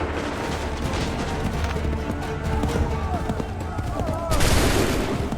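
Musket volleys crack out in an Assassin's Creed III battle, a dense, continuous clatter of gunfire with louder bursts, mixed with faint battlefield voices.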